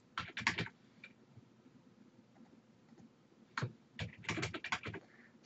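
Keystrokes on a computer keyboard while working in CorelDraw, in two quick bursts of close clicking separated by a near-silent pause.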